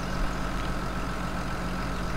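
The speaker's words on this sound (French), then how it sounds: "démarrer le tracteur" A tractor engine in Farming Simulator 19 idles with a steady, continuous low rumble and hum, loud and even throughout with no talking.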